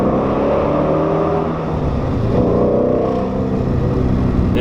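A 2017 Ford Shelby GT350 revs hard beneath a bridge, its engine note climbing and falling in loud, continuous sweeps that echo off the overhead structure.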